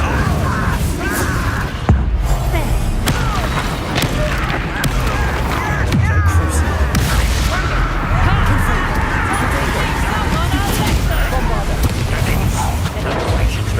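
Magic spell blasts and explosions in the wizarding game Hogwarts Legacy, a steady barrage of booms and impacts rumbling continuously through a fight, with a voice shouting incantations over the din.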